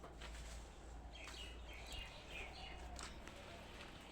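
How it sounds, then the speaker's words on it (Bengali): Birds chirp faintly among trees on a foggy morning at sunrise. The scattered, distant calls sit over a low background rumble. "সকালবেলা পাখি সব কিচিরমিচির করে ডাকাডাকি করতেছে।"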